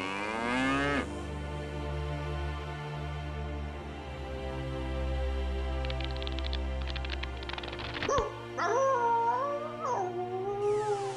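A cow in a cowshed moos in long, drawn-out lowing calls that fill most of the stretch. A second, wavering run of moos follows near the end, close and fairly loud, with no talking.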